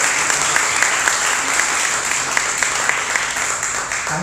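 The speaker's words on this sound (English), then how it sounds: "put your hands together, let's applaud as Do Together comes up on stage" Audience applause at a startup demo day as a company team walks onto the stage, steady dense clapping with sharper individual claps poking through, filling the whole span without talk.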